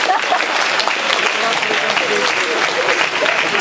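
An audience at a KVN comedy show in the village of Tvardica applauds after a sketch, a loud, dense burst of clapping that holds steady throughout.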